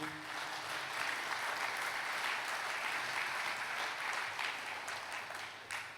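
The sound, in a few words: audience clapping hands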